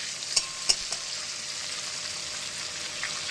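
Tomato frying in oil in a pan gives a steady close hiss of sizzling, broken by two or three quick utensil knocks near the start.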